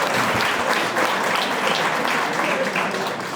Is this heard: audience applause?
yes